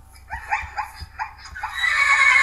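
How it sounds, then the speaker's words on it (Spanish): A horse in a video game neighs, a rising and falling whinny with several pulsing bursts, loud and close, and no talking over it. "un caballo."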